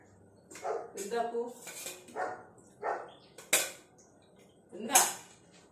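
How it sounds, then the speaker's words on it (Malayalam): A dog at a house barks off and on in short, separate yelps, mixed with clinking dishes and kitchen clatter nearby. "അവിടെ കിടന്ന് കുരയ്ക്കുന്നു"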